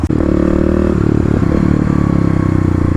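Kawasaki KLX351 dual-sport motorcycle being ridden, its steady engine drone loud and close throughout with some clatter, no voices.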